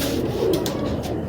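A pigeon coos nearby, a soft low throaty call over steady background noise, with a few faint higher chirps mixed in.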